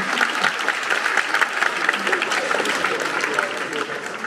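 A live audience applauds in a continuous, fairly close burst of many hands clapping, with a voice speaking over it.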